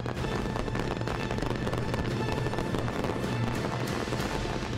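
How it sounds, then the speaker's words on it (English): Fireworks burst in a dense, continuous barrage, with loud crackling and booming packed tightly together and no quiet gaps, sustained at a steady high level throughout. "We'll even see what it's like to fly through fireworks."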